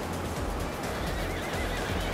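Horse neighs and whinnies in the motorbike stunt game Trials Fusion, loud and close over a dense, noisy game mix, with a rough whinny carrying across the whole stretch.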